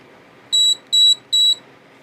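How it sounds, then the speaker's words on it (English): Firefly X Lite action camera emitting three short, evenly spaced electronic beeps after a long press of its record button, loud and clear over a quiet background. "You get 3 beeps."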